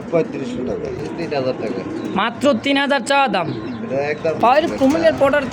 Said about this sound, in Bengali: এটা এতটাই সুন্দর একটা লাখা কবুতর